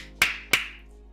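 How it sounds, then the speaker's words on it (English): Two sharp hand claps, about a third of a second apart, crisp and close in an otherwise quiet room. "simply clap."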